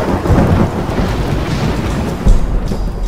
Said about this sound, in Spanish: Ya empezó el aguacero otra vez